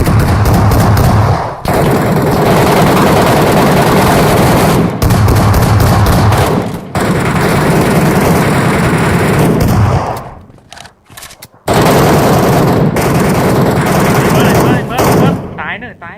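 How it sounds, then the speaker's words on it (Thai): Rapid gunfire from a crouched position in the shooter game MetroRoyale, loud dense bursts repeating over and over with a few short gaps between volleys. "ต้องนั่งยิงมันอ่ะ"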